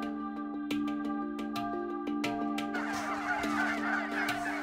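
A turkey gobbles and calls repeatedly while being chased, with harmonic honking notes close by and rustling, scuffling noise building underneath.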